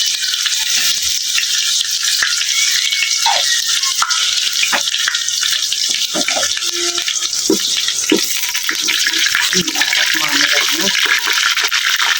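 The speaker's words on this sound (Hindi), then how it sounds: "अब इसमें हमारा ऑयल गर्म हो चुका है। अब इसमें मैं लहसुन डालने लगी हूँ।" Garlic frying in hot oil gives a steady, loud hiss of sizzling with scattered crackles and pops throughout.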